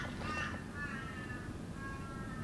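A crow caws a few times in a quiet setting, the harsh calls fairly faint against low background noise, ending with a brief sharp sound.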